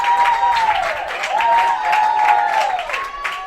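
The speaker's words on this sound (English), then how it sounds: "Prior Lake crowd cheers and the Milroy crowd cheers" Crowd in the stands at a Class C state tournament high school baseball game, Prior Lake vs Kimball, cheering and clapping loudly, with a sustained high whistle-like tone riding over the noise.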